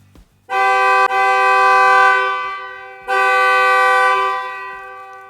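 A Genesis GV70 horn triggered remotely from its smart key sounds two loud, sustained toots, a long blast then a second one, with no voices.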